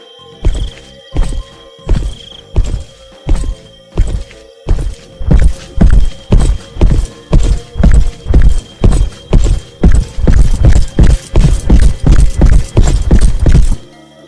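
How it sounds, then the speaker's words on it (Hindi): Heavy footsteps as a sound effect in a spooky tale, a long run of loud, hollow thuds that start spaced apart and quicken into a steady, rapid pace. "अब सुषमा को पैरों की आहट ज्यादा आने लगी थी।"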